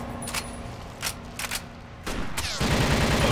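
Weapons fire in the first-person shooter TimeShift in several sharp, separate bursts of shots, followed by a louder, sustained stretch of rapid gunfire and clatter toward the end.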